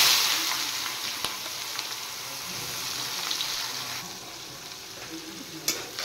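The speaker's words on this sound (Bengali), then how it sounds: "এবার পেঁয়াজগুলো একটু লাল করে ভেজে নেব" Chopped onions fry in hot oil with whole garam masala and mace, giving a continuous close crackling sizzle that eases a little midway, with one or two sharp utensil clicks.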